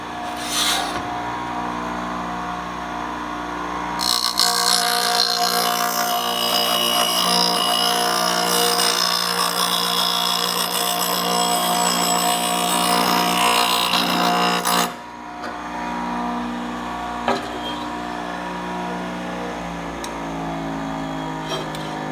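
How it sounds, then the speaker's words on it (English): A surfacer grinds along the steel rail of a Dyna Products firewood processor, a loud, harsh abrasive rasp that runs steadily for about ten seconds before cutting off, with motor hum before and after. "Okay, you can see here we're grinding on this rail,"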